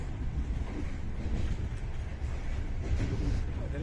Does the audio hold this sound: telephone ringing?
no